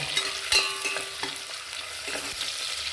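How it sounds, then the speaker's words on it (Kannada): Onions fry in a steel pan for a bitter gourd curry, giving a steady close sizzle broken by occasional scraping stirs. "ಈರುಳ್ಳಿ ಚೆನ್ನಾಗಿ ಫ್ರೈ ಮಾಡ್ಕೊಳ್ಳೋಣ"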